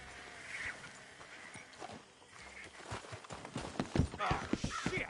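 Horses' hooves clip-clop on the ground in the Western video game Red Dead Redemption 2, with uneven steps that grow louder and closer toward the end.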